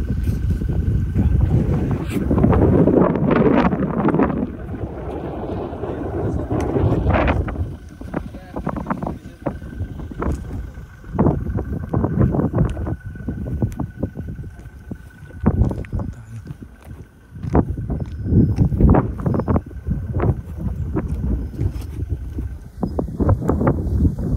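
Gusty wind buffets the microphone outdoors at a pineapple plantation in Tagaytay, loud uneven bursts rising and falling while someone talks over them.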